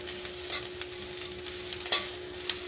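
Ghati masala is added to a pan of roasted coconut and onion for spicy brinjal, giving a quiet, steady sizzle with scraping stirs and a few sharper clinks of the spoon against the pan, under a faint constant hum.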